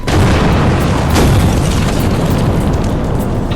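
A package bomb going off: a loud, heavy boom followed by a sustained roaring rumble that stays dense for several seconds.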